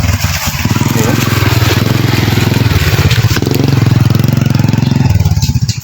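A motorbike hauling a load of rice sacks runs its engine up close and loud, a steady buzzing drone that holds for the whole stretch with slight rises and dips, with voices faintly underneath.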